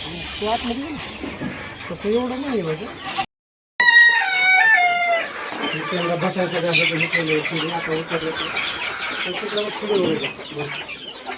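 Chickens clucking and a rooster crowing in a poultry coop with mesh netting, mixed with ongoing speech and a brief break partway through.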